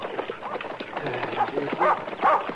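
A dog gives short whimpering yips and barks close by, with voices talking over it, in a scene from the Gunsmoke western drama.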